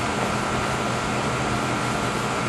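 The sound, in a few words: air conditioning system running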